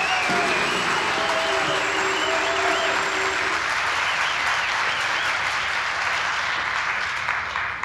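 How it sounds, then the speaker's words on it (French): An audience at a poetry reading applauds in steady, dense clapping that fills the room from start to end, with a voice speaking faintly over it early on. "Vous applaudirez après s'il y a lieu."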